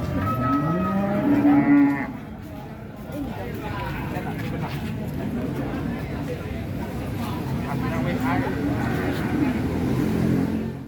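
Cattle mooing at a livestock market in Lamongan, East Java, during an inspection for foot-and-mouth disease: a loud, drawn-out moo near the start, then fainter lowing over crowd noise and passing vehicles, with a voice speaking throughout.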